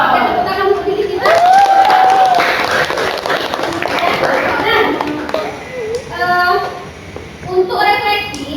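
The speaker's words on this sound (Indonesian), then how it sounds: "Oke, tepuk tangan untuk diri kita." Classroom of students clapping together after a chemistry lesson on colloids, a burst of applause lasting several seconds mixed with children's voices and chatter, close and fairly loud, while a teacher speaks over it.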